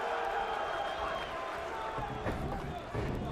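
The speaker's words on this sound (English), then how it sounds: "The crowd loves it." Wrestling arena crowd cheering and roaring at a TNA Lockdown 2007 match, a steady loud wash of voices throughout with a swell of cheers near the end.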